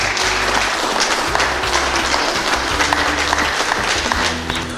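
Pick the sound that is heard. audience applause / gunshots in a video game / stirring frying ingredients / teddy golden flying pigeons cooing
audience applause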